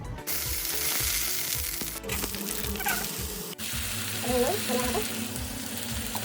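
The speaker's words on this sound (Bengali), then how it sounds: "আর এবার কারি পাতাটাকে ভেজে নেবো।" Curry leaves fry in a pan with a dense, crackling sizzle that holds steady throughout, punctuated by a couple of sharp knocks and some faint watery clatter nearby.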